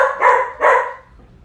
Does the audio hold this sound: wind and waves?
no